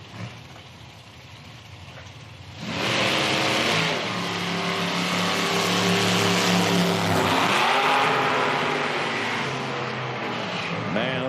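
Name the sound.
nitro drag race cars launching side by side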